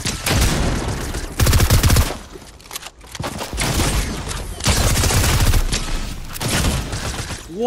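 The Supreme Machine Gun fires in Fortnite, sustained loud automatic bursts in several long strings separated by brief pauses, close and dominant throughout.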